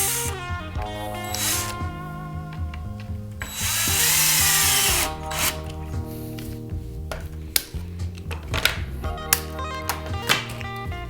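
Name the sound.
power drill driving decking screws into wood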